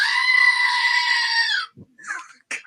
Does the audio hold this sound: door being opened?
no